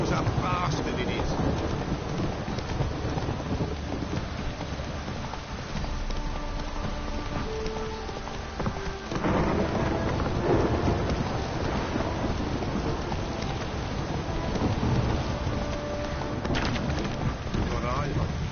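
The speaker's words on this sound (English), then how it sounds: "This downpour's a bastard, it is." Heavy rain pours in The Witcher 3, a steady hiss joined by rolling rumbles of thunder, with a brief surge of noise partway through.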